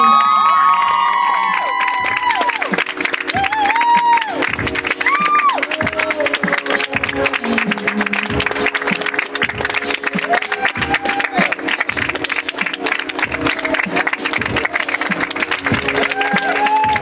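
A crowd at an environmental art fashion show cheers, whoops and claps, a lively mix of raised voices, high shouts and scattered applause that carries on noisily throughout.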